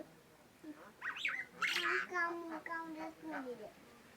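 A myna bird mimics human speech in short, warbling phrases, up close, with a few squeaky calls mixed in.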